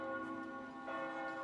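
Church bells peal steadily in the Netherlands in memory of the victims of flight MH17, a sustained ringing of overlapping tones heard faintly from a distance.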